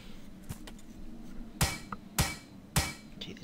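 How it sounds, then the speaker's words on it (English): Three sharp hammer blows strike a car in the video game Plains of Pain, evenly spaced and close, with a few fainter knocks before them over a low background. "hitting something with a hammer doesn't seem to make much attraction noise"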